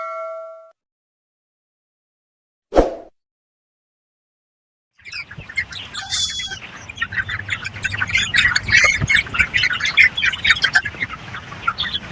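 Chickens at a poultry farm squawk and chirp in a busy, close chorus through the second half, after a near-silent start broken by a single sharp clank.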